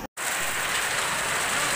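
Steady rain hisses continuously on a surface, a dense, even patter after a brief silent gap at the start.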